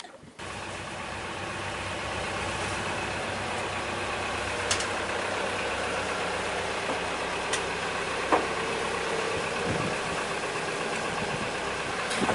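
A sailboat's motor runs steadily throughout while beating north against the trade winds, a continuous mid-pitched engine drone with a few faint clicks and knocks over it, and nobody talks.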